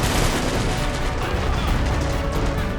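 Dense machine gun fire from several soldiers with machine guns, including a PKM, in the Army Men of War Battlegrounds video game, a loud continuous crackling barrage with no pauses.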